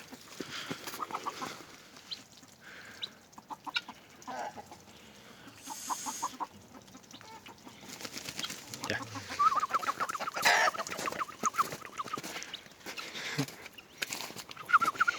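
A goose calls repeatedly from close by, giving several harsh honks and squawks at irregular intervals over quiet background noise.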